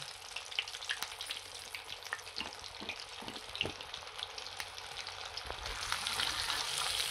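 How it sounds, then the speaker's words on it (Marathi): Pieces of cornflour-coated paneer frying in a hot pan for chili paneer, a continuous quiet sizzle with scattered pops that swells slightly toward the end. "आपण हे पनीरचे तुकडे टाकून घेऊया आणि व्यवस्थित असं त्यांना फ्राय करून घ्यायचं"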